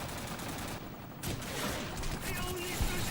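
Rapid gunfire from Call of Duty 4 played on a PS3 forms a dense, continuous wash of game combat noise. Bursts of shots run throughout with no break in the loud battle din.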